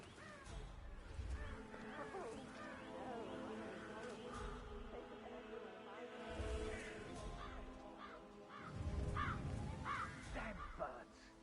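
Crows caw repeatedly in the Hitman game, the harsh calls recurring in clusters over a background of low rumbling sound effects.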